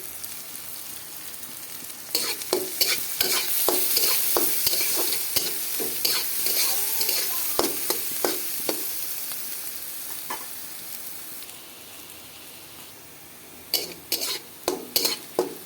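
Chopped onions with a little turmeric and salt fry in a pan, a steady hiss broken by repeated scraping stirs and clinks of a spatula, alone with no voices.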